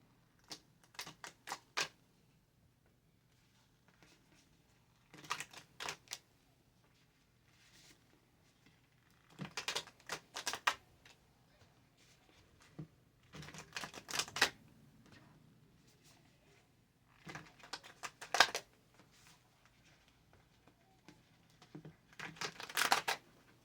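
Cards being shuffled in repeated bursts of crisp riffling and flapping, several separate shuffles with short quiet pauses between, close and fairly quiet.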